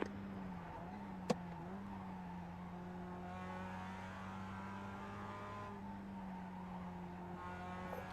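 A Mazda MX-5 Cup race car runs at Lime Rock in the iRacing sim. The engine holds a steady, strained high-rev drone almost throughout, with one brief click near the start and no speech.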